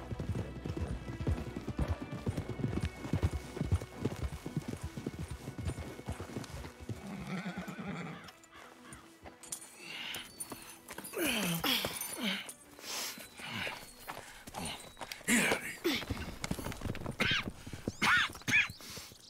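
In the video game Red Dead Redemption, hooves clip-clop steadily on hard ground while a horse whinnies and snorts, followed by more scattered hoofbeats and shuffling.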